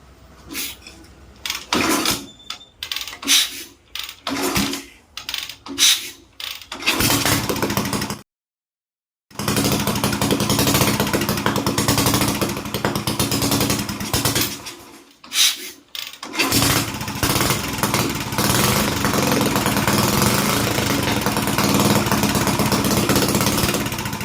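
An old Royal Enfield Bullet motorcycle, freshly restored with its petrol tank refitted, is worked on with a few short bursts and clanks, then its engine catches and settles into a steady, loud, continuous idle running close by, with a brief cut-out midway.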